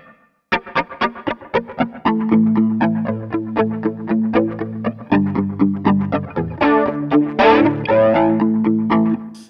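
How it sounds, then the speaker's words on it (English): Electric guitar played through a NUX Mighty Space amp with a flanger modulation effect, heard as a run of loud, close picked and strummed chords whose tones sweep and whoosh, with no talking. "we could go to modulation and we could turn that flanger back on"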